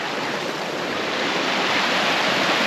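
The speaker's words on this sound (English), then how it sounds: "I love these Rocky Mountain creeks" A Rocky Mountain creek on the trail up Mount Elbert in Colorado rushes steadily, a dense, continuous broadband hiss of flowing water, close and fairly loud, with no voices.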